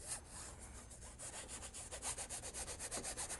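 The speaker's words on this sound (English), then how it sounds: "you take your brush and you fuzz it like this" A paint brush scrubbing back and forth on a canvas to paint distant background trees, a soft close rhythmic rubbing of quick strokes that grows faster and more regular toward the end.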